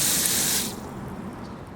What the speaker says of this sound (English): water's draining out of the bottom of the pot